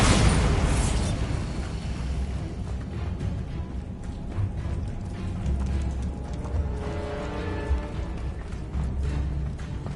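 Bombarda spell blasts in the Hogwarts Legacy video game, a sharp burst at the start followed by rumbling booms and a steady low roar of combat effects, with no talking.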